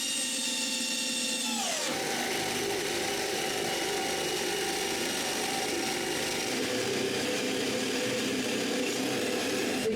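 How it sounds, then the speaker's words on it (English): A power drill boring two holes in a wooden snowmobile trail groomer plow, made to attach a tow chain, runs at a steady high whine after a short spin-down near the start, close and continuous with no talk. "When I'm finished, I drill 2 holes to attach a chain to the front."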